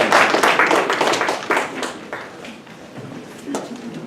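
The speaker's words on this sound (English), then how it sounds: "Clap for him." Clapping from a small crowd fills the clip, loud at first and thinning out toward the end with a few scattered claps.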